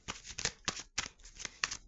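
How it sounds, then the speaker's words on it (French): Tarot cards being shuffled by hand, a short burst of crisp, papery riffling strokes in an uneven rhythm, close and fairly quiet with no talk over it. "Je vais prendre un tirage pour vous à 4 cartes. Donc là, je les mélange."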